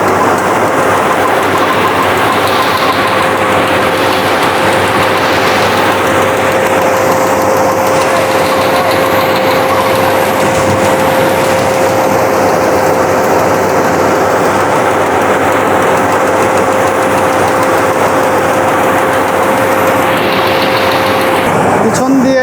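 A modern combine harvester cutting a rice paddy, its engine running with a steady, loud drone and a constant whine throughout, close by and unbroken.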